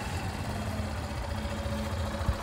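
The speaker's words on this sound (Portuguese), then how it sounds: "Agora vamos fazer a arrancada da moto." A motorcycle engine runs at a steady idle-like hum during a riding test start, with a faint rhythmic mechanical thrum and a brief thump near the end, moderately close and without talk.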